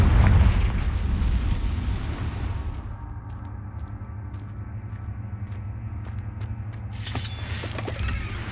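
A Confringo spell blast in the Hogwarts Legacy video game, a loud, heavy boom with a roaring rumble that fills the first few seconds, then settles into a low sustained drone before a bright burst flares near the end.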